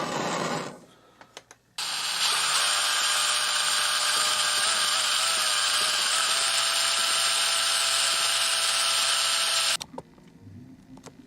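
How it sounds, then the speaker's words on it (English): A power drill bores holes through the steel safety of a Mauser 98 rifle, whining steadily and loudly for about eight seconds alone, with brief handling clicks before and after. "I got these holes drilled through here"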